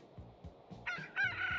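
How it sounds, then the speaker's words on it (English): A rooster crows inside the Transport Fever 2 game world, two rising, drawn-out calls near the end following soft low thumps, moderately close and clear with no talking. "You just heard the rooster here as well."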